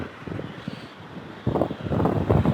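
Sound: strong wind

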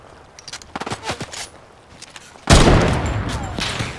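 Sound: gunfire in the Fortnite video game

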